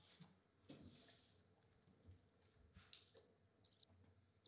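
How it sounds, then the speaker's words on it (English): A cricket chirping sound effect played during a casual drinking hangout, giving a few short, faint chirps with gaps of near silence between them. "I didn't mean to put the cricket sound."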